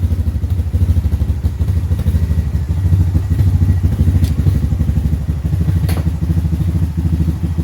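Honda ATV engine, freshly carb-cleaned and warmed up, running steadily at close range with a continuous, even throbbing drone and no talk over it.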